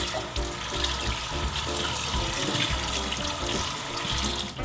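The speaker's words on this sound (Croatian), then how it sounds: "I nju ćemo preliti sa hladnom vodom." Cold water runs steadily over freshly boiled carrots in a kitchen, giving a continuous, moderately quiet rush and splash with no voices.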